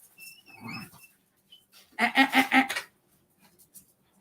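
A dog gives a quick burst of several excited barks close by, with a few quieter yelps and whines around it.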